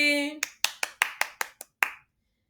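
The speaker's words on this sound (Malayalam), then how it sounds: "എല്ലാവരും കൈയടിച്ചേ" A short run of about eight sharp hand claps in an uneven rhythm, close and crisp, right after a brief voiced sound.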